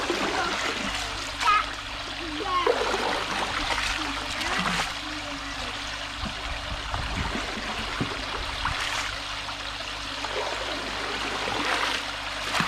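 Water in a koi pond being stirred by hand to mix in a fluke treatment, a steady close sloshing and trickling with small splashes throughout, voices speaking over it.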